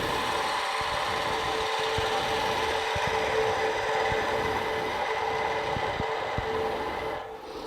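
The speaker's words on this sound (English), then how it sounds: "So I'll come back to a spindle gouge here." A spindle gouge cuts a wooden pepper mill spinning on a lathe, a continuous close hiss and scraping whir over the motor hum, with small tapping ticks throughout and no talk.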